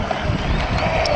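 A Volantex V792-4 70cm brushless RC boat buzzes across water with a steady whine and splashing wash, fairly loud and continuous.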